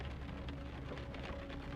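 Steady rain falling on surfaces, a dense, even patter with soft scattered drops and no break or rise, moderately quiet and continuous, with no voices.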